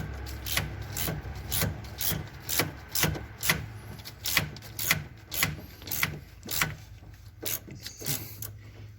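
A 13mm socket on a ratchet tightens a bolt while a power steering rack goes back into a 2005 Dodge Ram 1500, giving a steady run of close, sharp clicking strokes about twice per second with no talk.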